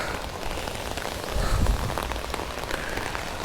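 Heavy rain pours down in Sydney on a misty day near outdoor stairs, a dense, continuous patter on hard surfaces that swells briefly midway and stays steady throughout with no voices.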